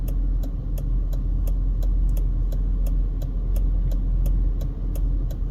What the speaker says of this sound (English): Got a lot of cross traffic here on both sides.